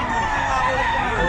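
A young stag rooster crows briefly at the Bocaue pet market, a short, strained call rising over the market's background noise.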